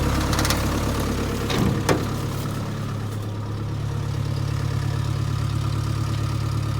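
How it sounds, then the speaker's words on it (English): A cold Land Rover Series 2A with a 2.25-litre diesel idles steadily with a slightly raised idle, a loud continuous rumble with a faint knock, plus a brief clank near the start. "I got it turned up a little bit just to get it for an idle while it warms up"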